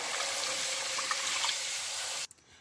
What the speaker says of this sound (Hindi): आधा किलो हम पानी शामिल कर रहे हैं